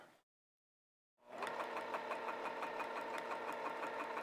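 Sewing machine stitching a vest that has to be shifted while sewing; after a second of silence a steady, fast rhythmic needle run starts and continues close and even to the end, with no voices.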